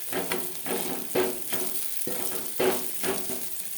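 Mustard seeds, onion, dried red chillies and curry leaves fry in hot oil for a mushroom fry, a continuous close sizzle broken by repeated rhythmic scrapes of a spoon stirring the pan.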